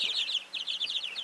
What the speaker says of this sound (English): These are, again, these are the laughing chickens.